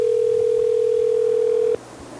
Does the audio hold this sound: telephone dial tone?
yes